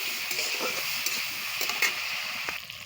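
Okra frying in oil with a little turmeric powder, a steady bright sizzle with faint scattered stirring ticks, close and fairly quiet with no talking.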